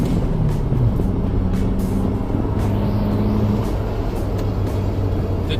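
Turbocharged 1.8T engine in a 1988 Volkswagen Vanagon GL pulling under boost, a loud low drone with rising whine, then brief airy bursts as the blow off valve vents.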